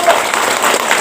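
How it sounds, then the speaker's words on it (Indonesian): Audience applause at an Islamic religious gathering (pengajian) at an Islamic boarding school's graduation celebration, a brief burst of dense clapping mixed with crowd noise and talk. "Tepuk tangan dulu dong."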